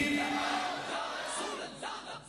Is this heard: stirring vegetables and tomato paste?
no